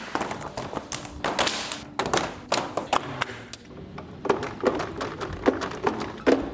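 Interlocking Swisstrax plastic garage floor tiles are pried apart with a tile popper, making a close series of hollow taps, clacks and thuds in an irregular rhythm.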